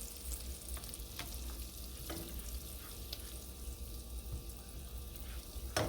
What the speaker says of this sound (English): I'm going to stir them around until they melt.